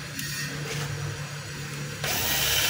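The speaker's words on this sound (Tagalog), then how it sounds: "Tapos syempre screwhan din natin. Kulang ng dalawang screw." Power screwdriver driving screws into a DeWalt D25811 5 kg jackhammer during reassembly, a steady close whine under faint background noise that rises and louder at the end.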